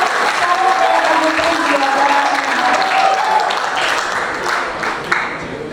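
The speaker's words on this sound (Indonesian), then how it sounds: "Tepuk tangannya dulu dong" Audience applause fills a hall for an alumni sharing event, steady dense clapping throughout with a crowd murmur and a faint voice or tonal sound lingering underneath.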